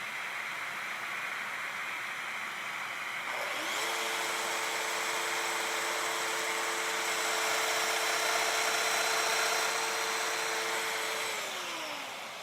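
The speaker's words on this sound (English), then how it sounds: "I have a domino joiner," A domino joiner cutting mortises in cedar whirs up after a few seconds over a steady, rushing background, holds a constant high motor whine for about eight seconds, then winds down.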